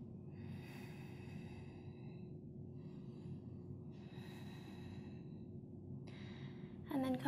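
Several slow, deep breaths drawn and released during a power yoga class, each audible over a steady low room hum, ending in a brief clatter.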